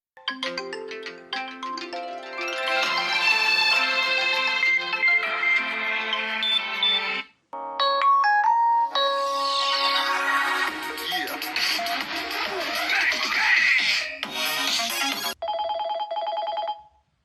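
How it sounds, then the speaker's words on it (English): Ringtones from a Vivo V29 phone speaker at maximum volume play loudly one after another, bright chiming melodies with short pauses between them, no voices. "one ringtone is better than the other for me"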